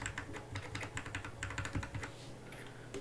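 JTK Zen keycaps being pressed onto a mechanical keyboard with a Discipline case, a rapid run of close, crisp plastic clicks and taps that thins out toward the end.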